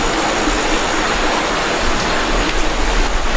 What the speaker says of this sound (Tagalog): Napakalakas ng tubig.